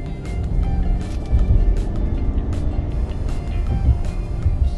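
A 2022 Grand Wagoneer with a 6.4 Hemi engine gives a low, steady drone while driving, mixed with road rumble heard from inside the cabin.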